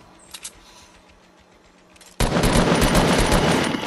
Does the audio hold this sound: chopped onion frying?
no